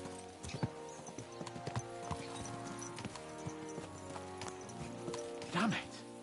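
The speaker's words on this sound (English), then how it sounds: "Let's really spur these horses on, eh?" Horses clip-clop steadily in a game scene, hoof beats in an uneven trotting rhythm over ongoing background music, with a brief whinny-like burst toward the end.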